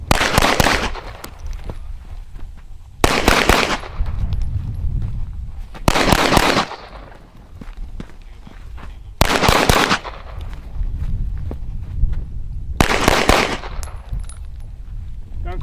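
Automatic gunfire at a shooting range arrives in four or five loud, close bursts of rapid shots, each a few seconds apart, with a rumbling echo between bursts.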